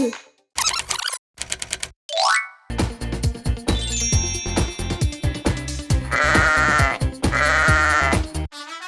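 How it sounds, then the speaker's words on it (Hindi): Cartoon sheep bleat amid boings, squeaks and rattling effects, with a quick run of clattering comic sounds and bright tones, loud and close against playful music. "देखो, भेड़ बाड़े के ऊपर से कूदने की कोशिश कर रही है।"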